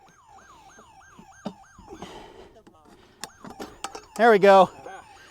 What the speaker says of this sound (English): now we got a dang alarm